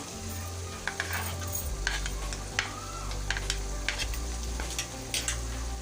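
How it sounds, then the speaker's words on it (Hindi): Minced meat sizzles and fries in a pan with chopped ginger and garlic, cumin and whole spices, a steady low sizzle punctuated by frequent sharp clinks and scrapes of a stirring utensil against the pot. "इसको भी भून लेंगे कीमे के साथ"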